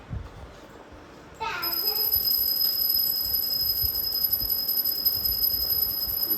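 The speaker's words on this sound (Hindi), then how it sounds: "ये मंदिर की घंटी है" A temple bell strikes once sharply, then a long bright ringing tone sustains steadily for several seconds over a noisy outdoor background with faint voices.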